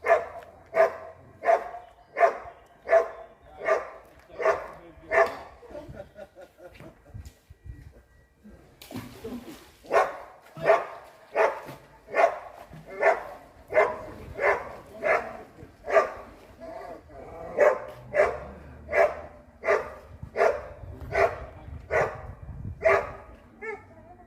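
A dog barks in a steady, evenly spaced run of loud, close barks that pause briefly and then resume at the same pace.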